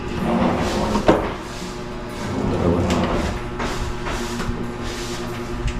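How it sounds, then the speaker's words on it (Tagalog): A soft-closing kitchen cabinet drawer holding spoons slides shut on its own, a muted thump followed by a gentle, damped glide in a quiet room. "Yung nag-automatic siya na mag-close."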